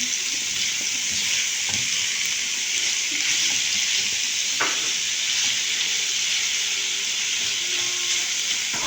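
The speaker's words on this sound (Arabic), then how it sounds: "بعد ما الفراخ استوت هضيف عليها بصلاية كبيرة مبشورة، جزراية كبيرة مبشورة، وهقلبهم كويس مع بعض لحد ما تستوي" Chicken with grated onion and carrot fries in a pan, giving a loud, steady sizzle and hiss throughout with occasional stirring scrapes underneath.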